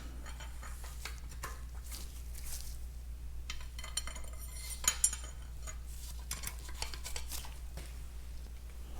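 Metal push rods for a Farmall tractor engine are handled and dropped into place, light metallic clinks and taps scattered across the moment over a steady low hum, close and fairly quiet.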